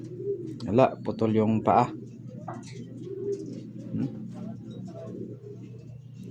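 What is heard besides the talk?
pigeon cooing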